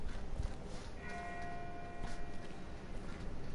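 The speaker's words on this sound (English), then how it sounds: "That's not the same bell as before. This one's further off." A distant bell rings once in The Walking Dead video game, a faint tonal strike that lingers over a noisy outdoor background.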